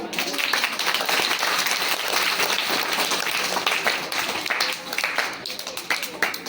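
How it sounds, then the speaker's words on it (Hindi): Applause from an audience at a school event for World Disability Day, a dense, steady wash of clapping that carries on throughout, with some talking mixed in. "तो इनके लिए एक बार तालियां।"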